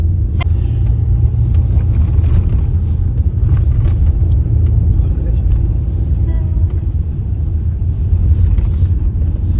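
Heavy village road traffic rumbles on without a break, a loud low vehicle drone with wind buffeting the microphone and scattered clicks and knocks, while people talk over it.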